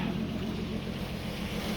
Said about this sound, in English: even replacing the tappets in this engine, you can still sort of hear them. They are kind of noisy.